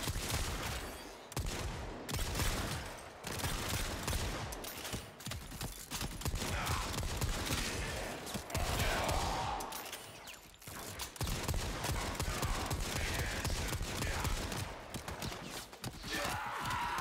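VELDT rifle fire in Warframe: dense, continuous volleys of shots with brief lulls, loud and close over game noise.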